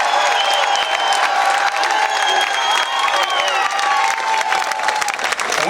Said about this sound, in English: let's give our police a round of applause and our veterans a round of applause